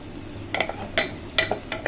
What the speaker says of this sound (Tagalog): Ayan ang ating garlic guys. Igigisa na rin natin.